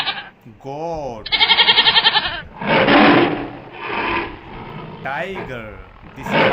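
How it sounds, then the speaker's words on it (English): A goat bleats repeatedly in wavering, nasal cries, loud and close, with a narrator's voice in between the calls. "Goat."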